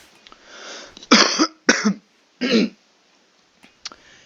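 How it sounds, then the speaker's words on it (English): A few short, close coughs in quick succession, then a quiet pause with a faint throat sound at the end. "Little coffee cough."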